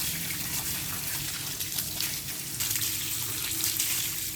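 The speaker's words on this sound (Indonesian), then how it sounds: "kita siram lagi" Water splashes steadily over a cleaned cactus cutting being watered, a continuous gushing pour like a tap stream, close and alone without talk.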